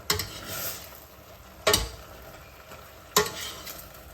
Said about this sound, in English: it's not stir fry unless you stir it while it's frying